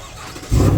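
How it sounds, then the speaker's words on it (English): A GMC Sierra pickup engine cranks and catches, a short, loud burst that jumps up abruptly after a quiet lead-in. "now start the truck."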